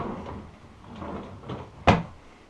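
Bedroom drawer slid shut with a single sharp wooden knock near the end, preceded by soft shuffling and handling noise, close by and without speech.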